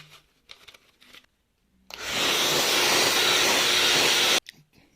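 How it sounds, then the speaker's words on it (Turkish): A hair dryer set to cold air, used to dry circuit parts during a microwave oven keypad repair, blows a loud steady rush for about two and a half seconds after light handling noises, then stops abruptly. "Bu işlem fön makinesiyle yapıyorum ama fön makinesi soğuk hava üflüyor."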